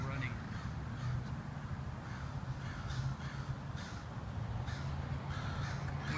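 Crows cawing from a tree as a flock moves toward an area fitted with bird hazers, harsh repeated caws at mid distance over a steady low outdoor rumble.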